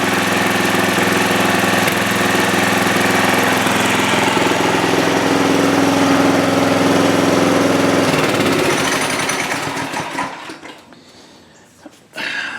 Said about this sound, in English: not allowing the engine to go to a low idle